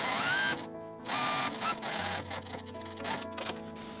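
Sewing machine stitching a seam pocket on fabric, a close, whirring run of rapid needle strokes in short stop-start bursts, with brief pauses between runs.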